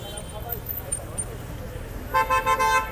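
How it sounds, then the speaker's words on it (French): A Paris taxi sounds its horn in a few short toots on a street during a protest near police, heard over traffic noise and nearby French talk. "Taxi nous klaxonne dessus."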